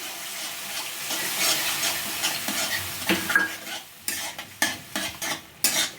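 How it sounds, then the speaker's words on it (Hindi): Red chili sauce, soy sauce and vinegar frying in a pan for beans Manchurian, a sizzle under busy stirring, with repeated sharp spatula scrapes and taps growing more distinct toward the end. "सॉस को 1 मिनट तक भून लेते हैं"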